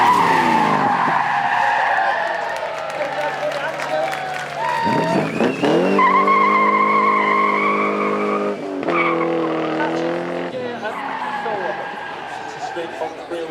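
Ginetta G33 sports car on track at a supercar weekend event, with loud sustained engine and tire-skid tones rising and falling for several seconds, drowned out in places by crowd noise.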